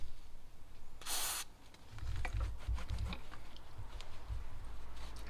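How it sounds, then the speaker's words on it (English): Parts cleaner sprays onto the cam cover of a VW T4 2.5 TDI engine in one short, loud, bright hissing burst, followed by scattered knocks, dabbing and handling noises close by. "You use a little bit of parts cleaner. To get the remnants of the muck off the top there."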